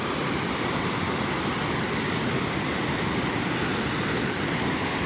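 Heavy rain pours down alongside fast-rushing floodwater in a steady, dense, loud roar that fills the whole stretch without a break, with no talking.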